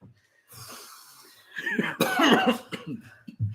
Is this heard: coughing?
yes